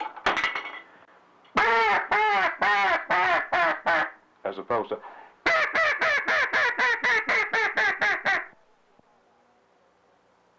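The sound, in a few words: duck call blown to imitate duck quacks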